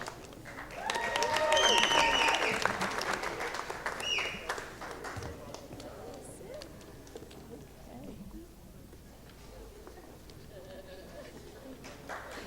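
Applause for nursing graduates at a 2014 commencement, swelling early and then thinning into scattered clapping, with a crowd murmuring and a voice speaking over it.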